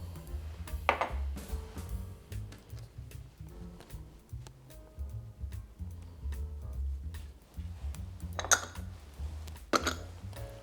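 Spoon stirring mayo, Cajun seasoning and Sriracha together in a bowl, a soft steady scraping mix with a few sharper clinks against the bowl, close and alone.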